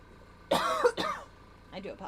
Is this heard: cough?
yes